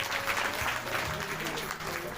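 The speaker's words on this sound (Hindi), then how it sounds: "यदि आप सहयोग दे सकते हैं तो एक ताली सब बजा दीजिए इस सहयोग के।" Crowd clapping together at a Bhagwat Katha gathering in a Vishwakarma temple, a dense, sustained round of applause with a voice speaking over it.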